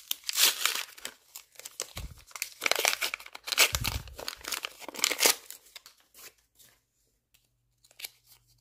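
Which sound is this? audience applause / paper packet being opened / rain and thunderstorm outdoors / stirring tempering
paper packet being opened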